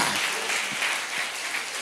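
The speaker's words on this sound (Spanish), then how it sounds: "déle un aplauso fuerte al Señor" A church congregation gives the Lord a loud round of applause, a full, continuous wash of clapping throughout, steady and sustained without a break.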